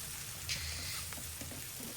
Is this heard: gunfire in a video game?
no